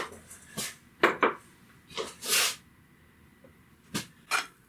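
A tablespoon of butter is dropped into a pan while oatmeal chocolate chip pancakes are being made, giving a few separate clattering knocks of pan and utensils in a quiet kitchen.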